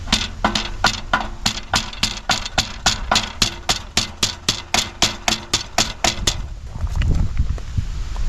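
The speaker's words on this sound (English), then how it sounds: "if I just tap this with the hammer, it should push that lever that way" Rapid, steady metallic tapping, about twenty sharp hammer strikes on a metal lever of a 1946 John Deere B tractor, then they stop and a low rumbling hum is left.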